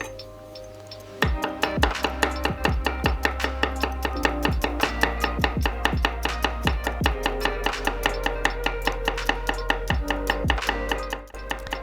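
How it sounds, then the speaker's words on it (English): Garlic being chopped finely with a knife on a board, a loud, fast, steady run of crisp chopping taps continuing close-up for about ten seconds after a quiet start. "And chop the garlic as fine as possible"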